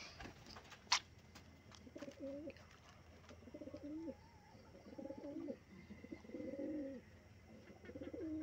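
Pigeons in a small backyard loft coo in soft repeated phrases, several throaty calls spaced a second or so apart, close by against a quiet background with a few light clicks.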